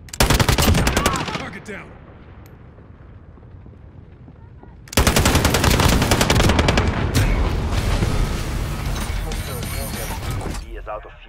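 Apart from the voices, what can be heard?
sentry gun firing in video game Call of Duty Modern Warfare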